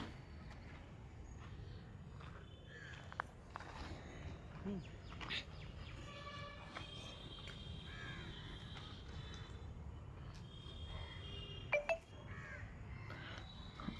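A crow caws several times at a distance, faint harsh calls over quiet outdoor background noise with a few other birds chirping.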